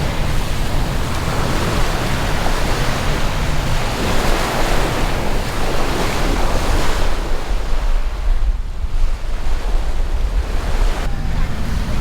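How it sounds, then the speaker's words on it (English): Waves wash ashore at Higgs Beach in Key West on a morning, a steady loud surf mixed with wind buffeting the microphone, with no pause from start to finish. "taking a last look at this beautiful little morning beach here."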